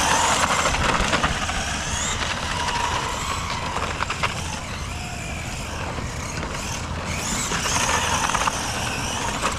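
A Traxxas XO-1 RC car drifting on sliding tires gives a continuous loud whine and rushing roar that surges and eases across the stretch, steady throughout with no voices.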